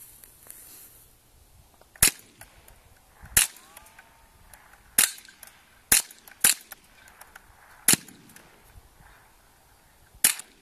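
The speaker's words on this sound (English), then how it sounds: "Gonna be firing the MA5 assault rifle from Halo." A replica Halo MA5 assault rifle, semi-automatic and chambered in .22 long rifle, fires seven sharp single shots outdoors, spaced irregularly about a second or two apart. Each crack is loud and brief, with quiet between shots.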